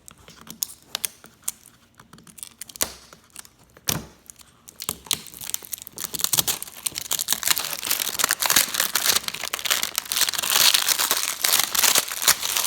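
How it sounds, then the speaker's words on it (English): Plastic packaging from a Smok T-Storm vape kit is crinkled and pulled open up close, with scattered clicks and rustles at first and then denser, continuous crackling toward the end, and no voices. "Wonderful sounds of crinkling goodness."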